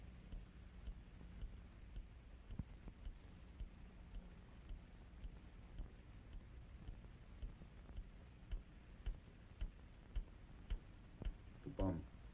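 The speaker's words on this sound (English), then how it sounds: "It started ticking." A time bomb ticks among rubble in a radio drama. Faint, regular clicks sound over a low hum and grow sharper and more distinct toward the end.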